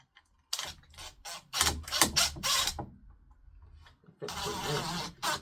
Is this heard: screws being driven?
yes